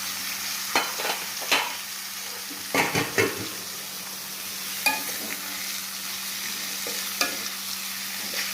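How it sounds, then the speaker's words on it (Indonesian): Chicken liver frying with ground spice paste, stirred slowly: a constant low sizzle with scattered spoon scrapes and clinks against the pan, close by, no talking. "Kita aduk perlahan-lahan ya"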